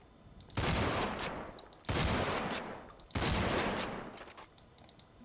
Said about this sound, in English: You then got the sawed-off shotgun